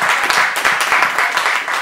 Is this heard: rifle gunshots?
no